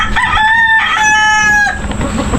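A rooster crows once at close range, loud and drawn out with a rising then held call, with hens clucking softly around it.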